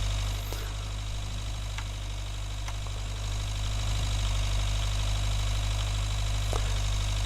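An old tractor engine idles in Agricultural Simulator 2013, a steady low mechanical hum with a faint knocking texture that holds evenly throughout, with no voices.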